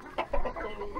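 Chickens clucking near the nest in a backyard coop, a short run of close, soft clucks in quick succession.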